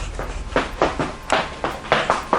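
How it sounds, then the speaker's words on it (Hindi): Someone runs across the roof of an old mountain haveli: a steady, quick run of thudding footfalls, close and fairly loud, with no voices. "तभी हवेली के ऊपर से किसी के दौड़ने की आवाज आई।"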